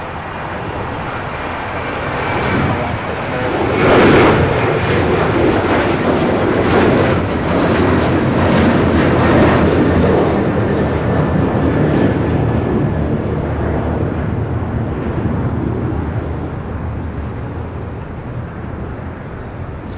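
ITA airliner at Los Angeles airport, a broad jet engine roar swelling and holding loud for most of the stretch before easing slightly, with wind rumble on the microphone.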